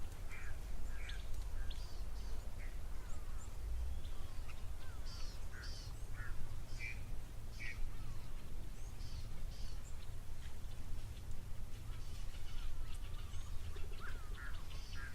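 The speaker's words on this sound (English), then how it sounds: "There's a couple of birds in the tree there." Birds call from a tree at a waterhole in the bush, scattered chirps and harsher caws at moderate distance over a low steady background rumble, no voices.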